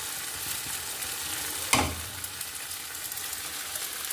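Beans with tomato ketchup being stirred in a little oil in a pan, a soft continuous sizzle with one brief scrape of the spoon midway, nearby and quiet, no talking.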